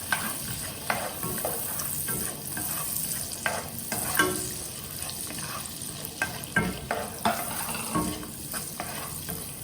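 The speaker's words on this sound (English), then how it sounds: "Stir a little bit." Tiny pieces of chopped carrot sizzle and fry in a pan while a utensil stirs them, giving a soft, continuous sizzle broken by scraping strokes, close and quiet.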